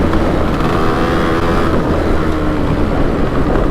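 A two-stroke off-road motorcycle, a Suzuki ER 185cc or Honda MTX125R, rides over rough ground with a loud, close, raspy engine drone that stays steady under a continuous throttle.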